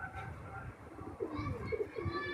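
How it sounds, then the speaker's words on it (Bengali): Madrasi pigeons in a flock of forty-eight coo in soft, low, repeated phrases at close range, with faint background voices mixed in. "এই যে চলছে কবুতর, এখানে"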